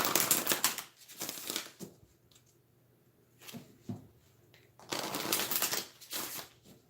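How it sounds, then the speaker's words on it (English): Spiritual guidance cards being shuffled in a deck, with bursts of rapid riffling and flicking near the mic, broken by a quiet pause in the middle before shuffling resumes. "Let's get one more spiritual guidance card, and then we'll wrap up the reading."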